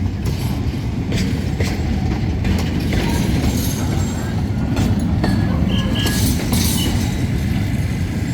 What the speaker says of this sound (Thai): มีรถส่งโรงงานมักกะสันครับนน คุณปู่ GK พ่วงออกมาแล้วครับ เป็นรถอัลสตอมสองคัน